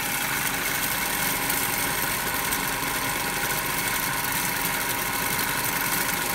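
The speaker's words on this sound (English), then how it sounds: "So you can hear the sound that the motor has started." DC motor running during Swinburne's test in an electrical machines lab, turning near 1440 rpm; a steady, continuous hum and whir with broadband noise, even and unbroken throughout, close by with no talking.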